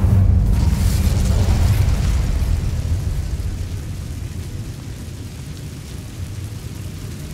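Incendio fire spell in the Hogwarts Legacy video game, a loud booming blast at the start that rolls into a sustained roaring rumble and slowly fades, with no talking.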